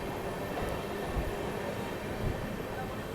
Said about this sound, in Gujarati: અને આપણી ટ્રેન જઈ રહી છે